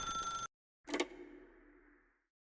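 In The Stanley Parable video game, a tone ends abruptly, then after a short silence a single bell-like telephone ring strikes and decays slowly, clear and isolated.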